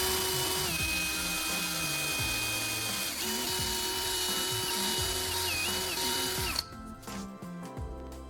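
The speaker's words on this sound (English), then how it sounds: "I'll secure them into the marked positions on the wooden base" A power driver whirs in sustained bursts, its motor pitch rising and dipping as screws are driven into a wooden base. It runs steadily and close up for several seconds, then stops abruptly, leaving quieter handling noises.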